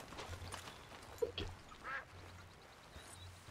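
A duck in the video game Red Dead Redemption (RedM) gives a few short quacks over a quiet background hum, faint and spaced apart.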